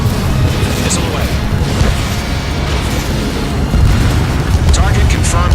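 A missile launch and explosion in the jet combat game Ace Combat 7, a loud rumbling roar and blast that fills the whole clip, with radio-style voices talking over it.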